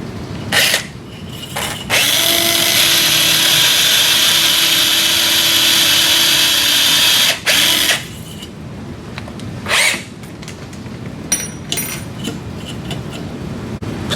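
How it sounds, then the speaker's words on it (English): A cannulated power drill whirs steadily for several seconds as it drives a starter drill into a sawbones bone model, then stops, followed by brief clicks and short bursts of drilling. "With the cannulated power drill, drive the radial starter drill over the guide pin"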